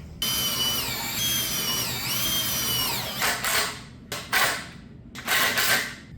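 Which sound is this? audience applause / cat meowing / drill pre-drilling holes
drill pre-drilling holes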